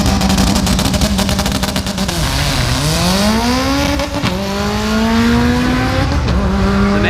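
A 700whp turbocharged B20-swapped EK Civic launches hard down a drag strip, its loud engine climbing through the gears in rising sweeps with brief drops at each shift, sustained and close.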